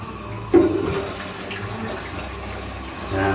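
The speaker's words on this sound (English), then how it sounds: "Rinse off the detergent." Running tap water splashes into a bowl as it is rinsed after scrubbing with detergent, a steady close wash with a louder burst near the start and another swell at the end.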